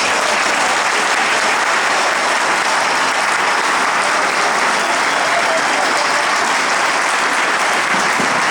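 A church audience at an Armenian Genocide commemoration applauds to welcome a speaker to the podium, a loud, dense and steady wash of clapping lasting throughout.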